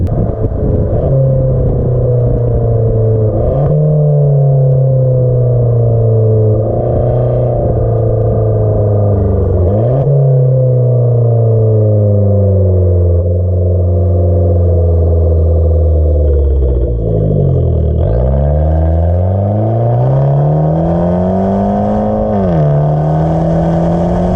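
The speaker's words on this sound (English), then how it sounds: "let you guys hear that exhaust note" A Fiat 500c Abarth's engine revs up and down repeatedly, its exhaust droning loud and close, pitch rising and falling through several pulls.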